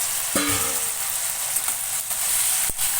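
Potatoes and cauliflower for aloo gobi frying in a pan, a continuous soft sizzle with a few light clinks and scrapes of stirring.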